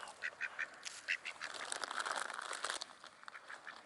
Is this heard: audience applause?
no